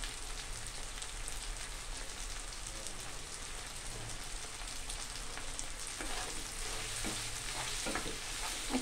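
Two eggs sizzle steadily in a pan for fried rice while a utensil breaks them up and stirs, a constant crackling hiss with scraping strokes and no talk.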